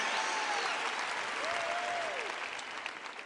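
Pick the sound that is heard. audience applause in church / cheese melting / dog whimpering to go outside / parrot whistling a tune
audience applause in church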